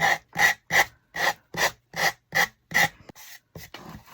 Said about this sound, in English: Now I'm just taking my little finger sander.